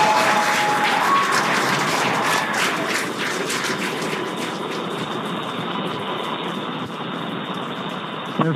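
A crowd cheering and applauding during the Polaris Dawn spacewalk broadcast, a sustained roar of clapping and cheers with a short tone near the start, fading slightly toward the end.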